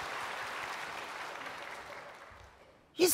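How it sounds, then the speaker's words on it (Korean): A church congregation applauds in a soft, diffuse wash that gradually fades, ending in a sudden loud burst near the end. "남녀장로님 격려박수."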